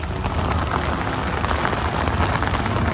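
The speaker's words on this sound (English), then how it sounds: "it's definitely raining." Steady, dense rain falls outdoors at Universal Studios, an even hiss of drops hitting surfaces that stays loud and constant throughout with no voices.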